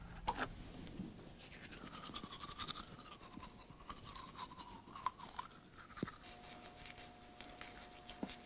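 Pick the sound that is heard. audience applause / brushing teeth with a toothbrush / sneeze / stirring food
brushing teeth with a toothbrush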